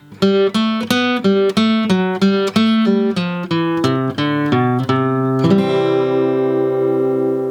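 Acoustic guitar picks out a bluegrass lick at slow tempo, about a dozen evenly spaced plucked notes, finishing on a strummed chord left ringing.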